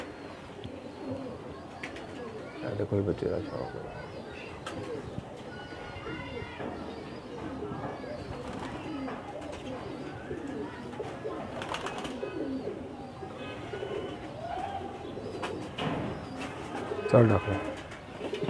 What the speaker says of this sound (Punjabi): ਅੱਜ ਤੁਹਾਨੂੰ ਸ਼ੌਕ ਕਰਾਉਂਦੇ ਜੀ ਆਪਣੇ ਸਾਰੇ ਕਬੂਤਰ